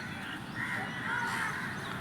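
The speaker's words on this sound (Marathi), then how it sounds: "कावळे म्हणते थांबा थांबा शंकर भाऊ." Crows cawing in a garden, their harsh calls rising and falling through a steady outdoor background noise that lasts the whole stretch.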